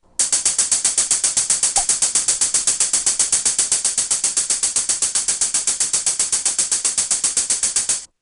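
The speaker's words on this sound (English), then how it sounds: "I've loaded a hi-hat sample and I've set the tempo at 115 beats per minute" A crisp, bright hi-hat sample ticks in a steady, rapid stream of even sixteenth notes at 115 BPM from a step sequencer, each hit identical, running uninterrupted for about eight seconds.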